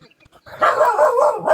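A dog barks in a few quick, loud yelps close by, after a brief near-silent start.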